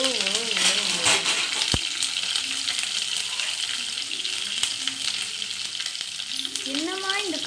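Mustard seeds splutter in hot oil with garlic, onion and curry leaves, a loud crackling sizzle with sharp pops and a couple of sudden bangs. A voice speaks briefly at the start and again near the end.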